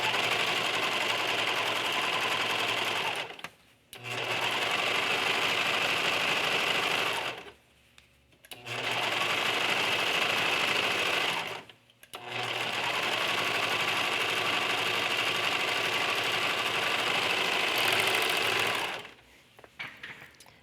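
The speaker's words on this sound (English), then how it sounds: "we're going to serge around the top of the pants to prevent the flannel from fraying" A serger overlocks the top edge of small flannel doll pants, running in four steady, buzzing bursts with short pauses between them, close and clear.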